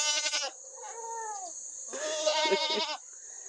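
Young Boer and Kiko goats bleating nearby on a goat farm, two or three wavering cries in quick succession.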